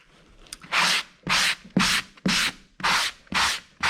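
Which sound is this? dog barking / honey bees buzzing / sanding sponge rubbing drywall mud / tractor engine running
sanding sponge rubbing drywall mud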